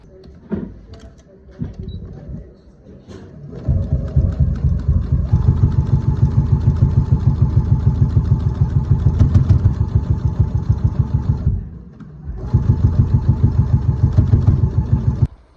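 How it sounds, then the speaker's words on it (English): A sewing machine stitching in the ditch through squares to quilt a denim vest sleeve, a loud close rapid mechanical chatter that runs steadily, pauses briefly, then resumes, after a few quiet clicks at the start. "I'm gonna quilt just right here, stitching the ditch type stuff all through these squares"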